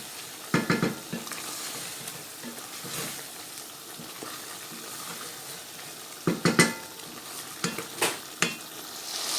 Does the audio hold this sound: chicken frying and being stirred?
yes